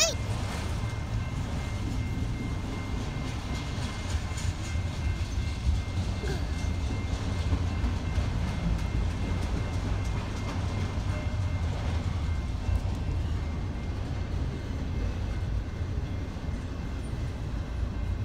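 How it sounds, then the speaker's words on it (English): A black CSX train rumbles steadily past close by, a continuous heavy low roar with faint rattling throughout. "Black train."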